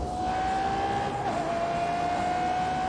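A Ferrari in a racing video game, a steady high engine tone held under power with a brief dip as it shifts or lifts, then holding again, close and loud.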